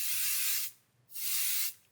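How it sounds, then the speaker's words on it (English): A can of spray adhesive lets out two hissing sprays, each under a second long with a short gap between them, close and clean with no other sound. "I'm going to go over and spray this area here with the spray adhesive"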